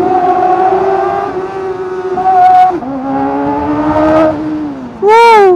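Kawasaki ZX-4RR motorcycle fitted with a short aftermarket exhaust, revving loudly up and down in several rising and falling sweeps, ending in a sharp high-pitched burst of revs.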